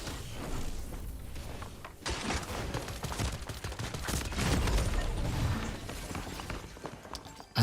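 Video game SMG gunfire rattles in rapid bursts at moderate loudness, with sharp crackling shots clustered after the first couple of seconds and no talking.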